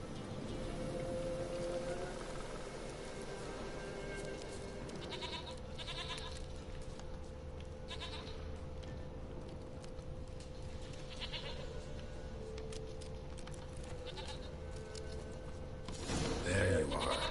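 Goat in The Witcher 3 bleating intermittently against a steady ambient game backdrop, with several short calls spread through the clip and a louder burst of sound at the end.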